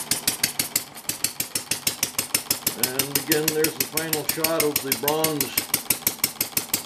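A small overhead cam air-cooled engine fitted with a cooling fan runs steadily nearby, its fast regular pulsing firing beat continuing under a voice as he talks.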